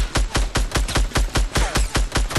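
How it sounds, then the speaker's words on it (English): Loud, rhythmic gunfire in Fortnite Battle Royale sounds as a rapid, evenly spaced string of about a dozen shots, close and punchy with no voices. "We're getting shot from every fucking direction"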